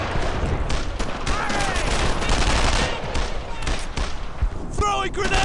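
Dense World War II gunfire in the squad shooter Brothers in Arms: Earned in Blood, continuous rifle and machine-gun bursts under shouted voices.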